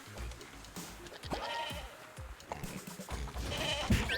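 A goat bleats in the game Moving Out 2, several wavering bleats over busy game noise, with a voice talking briefly.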